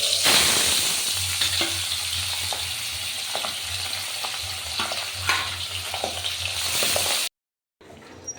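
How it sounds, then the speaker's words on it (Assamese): Pabda fish coated in turmeric and salt frying in hot oil, a loud, dense, steady sizzle with crackles and spatters close by, cutting off abruptly near the end. "এতিয়া মই মাছখিনি হালধি নিমখ সানি ফ্ৰাই কৰি"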